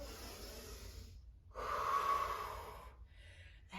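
Deep, steady breathing during a beginner home workout: a slow exhale and inhale, with one loud, long breath stretching over about a second and a half in the middle, close to the microphone, with no talking.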